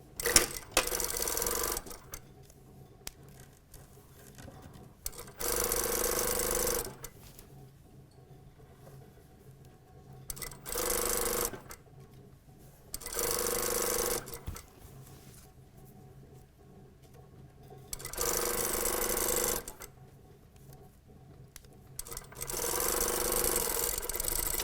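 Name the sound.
sewing machine stitching a skirt side seam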